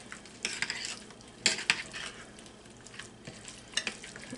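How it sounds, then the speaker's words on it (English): Food is stirred in a sizzling frying pan, with a steady hiss of frying under intermittent scraping and clinking from the utensil against the pan, close up and without talk. "So now basically we're just going to stir this,"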